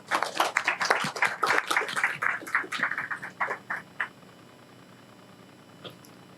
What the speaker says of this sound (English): let's give a big round of applause for Sujaya